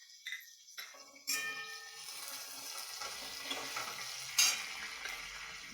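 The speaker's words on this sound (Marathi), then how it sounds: "आपण सगळे एकत्र एकदा परतून घेऊया" Roasted green chillies are stir-fried in oil in a pan for thecha, giving a quiet, steady sizzle with scattered scraping and clinking from the stirring.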